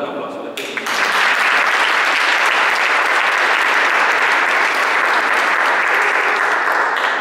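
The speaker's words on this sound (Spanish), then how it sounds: "¿Cuánto le dan un aplauso?" A church congregation bursts into dense, sustained applause during a Spanish-language service, the clapping swelling after a brief quieter start and holding loud and close to the end.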